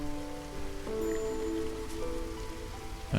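Light drizzle in the game Against the Storm patters as a steady soft hiss of rain, with faint tonal game music and interface tones layered over it.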